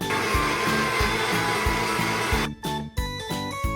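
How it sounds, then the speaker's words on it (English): A NutriBullet blender whirring as it blends a smoothie, a loud steady motor drone with rhythmic pulsing that cuts off and restarts in short bursts near the end. "Smoothies are easy with our NutriBullet."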